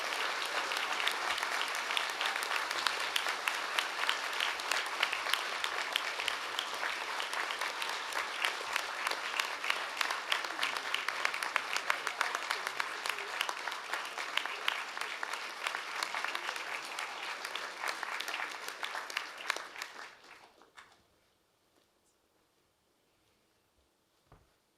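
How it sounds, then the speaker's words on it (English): Rousing applause fills a graduation ceremony hall, a dense sustained roar of many hands clapping for about twenty seconds before it fades quickly to near silence. "get that rousing applause going once more to congratulate Professor Alexander on her stellar career"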